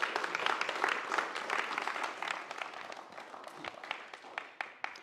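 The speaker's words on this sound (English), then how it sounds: "let's just give them a good round of applause" An audience at a history symposium gives a round of applause, fairly soft and even at first, then thinning to scattered claps that fade away.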